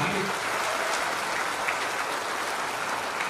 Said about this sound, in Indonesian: Marilah berikan tepuk tangan kepada Menteri ATR BPN yang baru